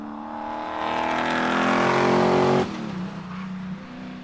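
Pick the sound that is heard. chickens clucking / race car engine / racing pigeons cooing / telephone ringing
race car engine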